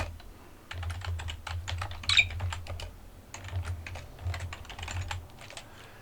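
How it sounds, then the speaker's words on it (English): Scattered keyboard clicks and key presses, irregular and uneven, with a low hum underneath and no talking. "don't get on the keyboard, little dude."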